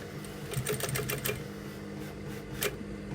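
A sewing machine stitching a leather bag repair with a size 18 leather needle at a 3.5 stitch length, giving a quiet, steady mechanical whir with a few sharper ticking clicks.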